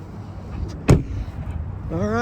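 Front passenger door of a 2018 Chevrolet Silverado 3500 pickup shuts with a single sharp thud near the middle, set against a quiet background with a voice starting just after.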